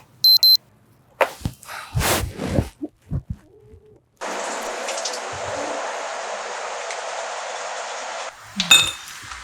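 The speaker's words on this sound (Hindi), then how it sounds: "दीदी यार ये अलार्म तो बंद कर दिया करो ना" An alarm goes off indoors in a home on a festival morning, a steady electronic ringing that holds for about four seconds alone after a few clinks and brief rustles, then stops.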